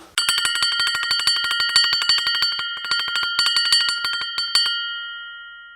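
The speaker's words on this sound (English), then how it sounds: "that's the bell, and our cakes are ready." A bell timer rings for red velvet cakes baked in a 350-degree oven, sending out a rapid, continuous metallic trill that stutters briefly midway, then stops and rings out in a fading decay, close and with no talk.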